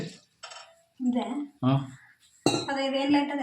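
A metal idli steamer pot clatters and clinks as it is handled, with a person talking over the clanking.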